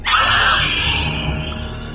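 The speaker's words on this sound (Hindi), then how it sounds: "एक एक करके 2 चीखें लगातार उस घर में गूंजी" A loud, sustained scream sound effect from a Hindi horror audio story, a single piercing cry that fades slightly over two seconds with no talk.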